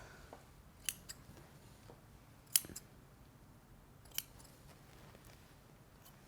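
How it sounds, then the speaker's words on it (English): Scissors snip loose threads on a sewn sports bra top, a few sharp, quiet clicks spaced irregularly over a faint background hiss. "And then trim your threads"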